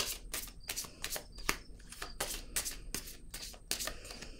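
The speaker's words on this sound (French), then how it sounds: "je vais déposer une autre carte" Tarot cards handled and laid down on a table, a quick series of crisp papery slaps and shuffles, close and fairly quiet, with no talking.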